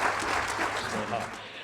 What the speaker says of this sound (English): But I will just sort of finish by giving these guys a massive round of applause.